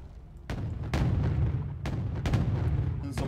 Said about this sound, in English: Red 4 have mortars of their own now